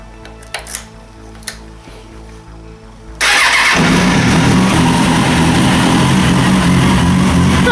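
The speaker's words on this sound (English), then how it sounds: "once the tank is on, we're going to start it up and see how it runs." Suzuki RF 900 motorcycle fitted with GSXR camshafts starting up in a garage: a few quiet clicks and knocks, then the engine fires abruptly and settles into a loud, steady idle.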